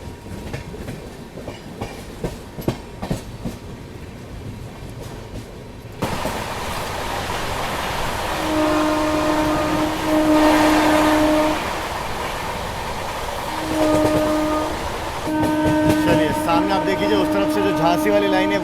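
The Bihar Sampark Kranti Express runs along the tracks, heard from inside as a loud continuous rumble and rattle with rhythmic clicking at first, then a sustained two-tone horn sounding repeatedly over the roar.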